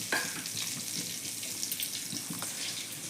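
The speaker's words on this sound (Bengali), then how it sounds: "এই যে ফ্রাই করে নিচ্ছি পেঁয়াজ, রসুন, কাঁচা লঙ্কা" Onion, garlic and green chilies fry in oil in a pan for a paneer dish, a steady close hiss of sizzling with faint stirring throughout.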